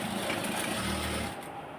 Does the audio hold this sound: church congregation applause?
no